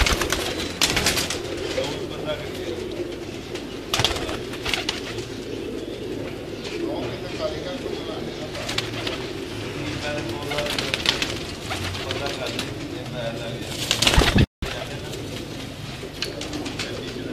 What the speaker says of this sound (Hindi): ये जी उस्ताद जवेद उर्फ जोजी के कबूतर हैं, टेडी कबूतर हैं